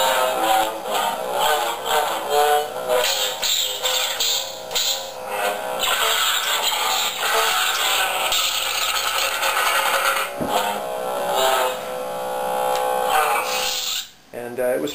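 A custom Pike Saber Staff lightsaber with three Krayt Bone handles and a graph in the speaker chamber plays its Shoto sound font: a steady, close electronic hum with shifting swells and buzzing tones that runs continuously before briefly dropping near the end.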